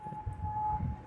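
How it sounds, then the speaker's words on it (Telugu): An air raid siren sounds during wartime in Kuwait as a single sustained, unwavering tone. It is fairly faint and distant, with low rumbling background noise underneath. "సైరన్ అయితే గట్టిగా మోగుతుంది."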